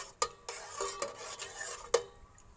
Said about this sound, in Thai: แล้วก็ ขยันคนนะคะ คนเรื่อยๆนะคะ